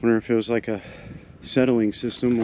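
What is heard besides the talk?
No distinct noise like a dog, phone or traffic.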